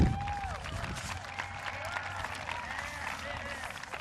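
A crowd applauds at a 2007 Hudson High School graduation ceremony, a steady wash of clapping that holds at an even level from start to finish, with faint voices mixed in.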